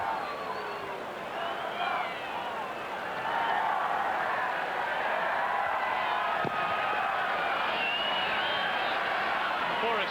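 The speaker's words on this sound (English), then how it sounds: "the largest crowd ever to watch a soccer game in Canada" Huge stadium crowd at a 1994 Canada vs Brazil soccer warm-up match in Edmonton, a steady distant roar and murmur of thousands filling the background evenly throughout.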